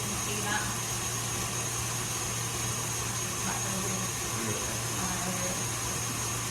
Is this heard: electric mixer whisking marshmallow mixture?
yes